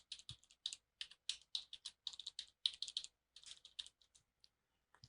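Fast, crisp keystrokes on a computer keyboard as a username and password are typed, coming in quick bursts with short pauses in a quiet room.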